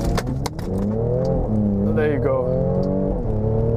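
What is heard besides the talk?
Mercedes-AMG C43 engine revving for launch control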